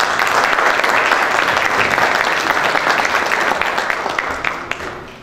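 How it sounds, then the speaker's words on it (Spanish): A forum audience breaks into dense, loud applause for a speaker, many hands clapping together close by, then it gradually thins and fades over about five seconds. "Les pido un aplauso para el licenciado Ramiro."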